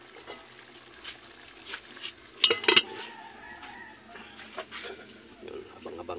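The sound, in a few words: covering a cooking pot with its lid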